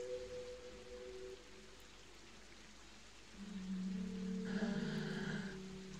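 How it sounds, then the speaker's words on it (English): Steady rain falling in the video game Off, a soft constant patter at low volume, joined later by a sustained tonal drone from the game's music. "it's a rainy green zone"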